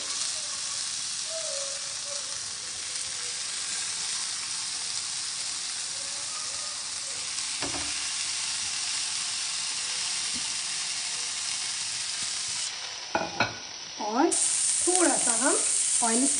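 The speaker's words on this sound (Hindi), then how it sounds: "हमारा पैन भी हॉट हो चुका है गैस को भी स्लो ही रहने देंगे और अपनी हम ये स्टिक ऐड कर देंगे" Paneer tikka sticks sizzling in a hot pan over a low gas flame, a steady loud frying hiss throughout with a clatter near the end as the pieces are moved. No one speaks.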